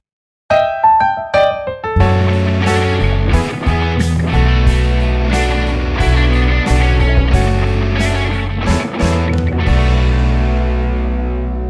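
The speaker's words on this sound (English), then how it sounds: "check it out when you hear it over top of some minor chords" A few bright picked notes open, then a full band enters with distorted guitar chords, driving drums and a melody riding on top, loud and steady.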